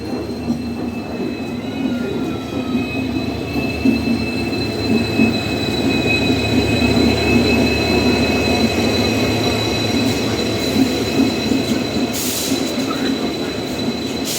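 A Howrah Mysore Express train at Howrah station in Kolkata rolls by up close, with a loud continuous rumble, clattering wheels and a high, steady metallic squeal from the rails.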